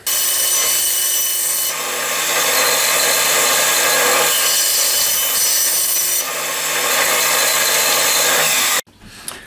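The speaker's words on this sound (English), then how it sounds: "Now I have a pretty rough edge, so I'm going to go ahead and sand that up." Rough edges of a wooden sword cut from a 2x4 are sanded with a loud, continuous abrasive whir that swells and eases in long passes for several seconds, then cuts off abruptly.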